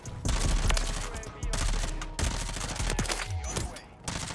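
Lachmann Shroud gunfire in a first-person shooter, bare of recoil attachments, firing in several rapid automatic bursts with brief pauses between them, loud and close.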